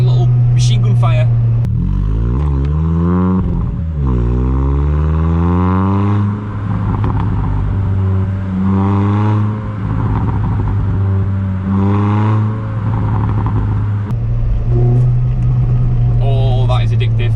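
Repeated engine revs sweep up and fall back, the non-resonated Milltek exhaust with 4-1 manifold and sports cat popping and crackling in rapid bursts like gunfire, with occasional speech.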